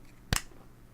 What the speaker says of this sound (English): everyone clap in 1